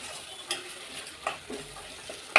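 Fresh green peas sizzle in hot oil in a pan for cabbage and peas masala gravy, with a soft frying hiss and a few sharp stirring clicks against the pan, the loudest near the end.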